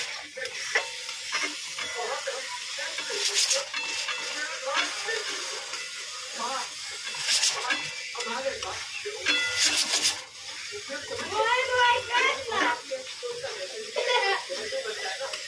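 Ginger garlic paste fries and is stirred in a pan for a Punjabi tadka, a steady close sizzle with scraping spoon strokes, while someone talks over it throughout.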